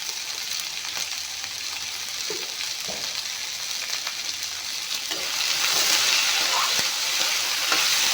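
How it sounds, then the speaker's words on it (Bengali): Food fries in a pan with sugar and butter, making a continuous close sizzle that swells louder partway through, with occasional stirring clicks and no speech. "অলপমান ভাজি ল'ম"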